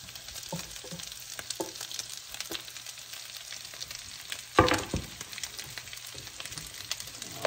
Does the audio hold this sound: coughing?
no